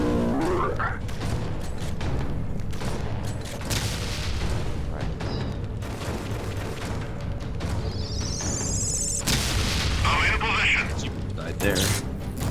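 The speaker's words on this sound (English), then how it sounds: "There's the grenade." A grenade explodes in the video game Dead Effect 2 with a heavy boom and crack amid mechanical clanks, creaks and game effects, while a player talks over it.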